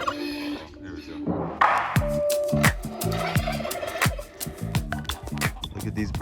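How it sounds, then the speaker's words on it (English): Birds call at the Chor-Bakr necropolis in Uzbekistan, a run of loud, repeated gobbling calls close by. Someone talks over them. "Look at these birds."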